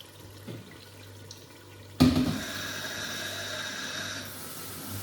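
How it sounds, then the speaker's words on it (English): Rice being washed for party jollof rice, with tap water suddenly gushing into a sink or bowl and splashing steadily for several seconds after a quiet start. "you got to keep washing it until like the water remains like colorless"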